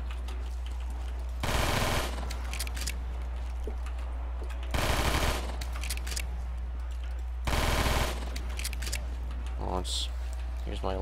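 Pistol fire in Black Ops zombies, heard as three loud bursts spaced a few seconds apart over a steady low game drone, with a few fainter clicks and mechanical sounds between them.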